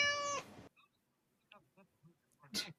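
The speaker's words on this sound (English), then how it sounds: "Lots and lots and lots and lots and lots and lots and lots and lots of cats." Cats meowing, with one loud drawn-out meow up close at the start, then a few faint scattered chirps and a final short, sharp meow.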